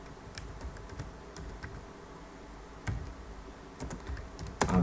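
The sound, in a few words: typing on a computer keyboard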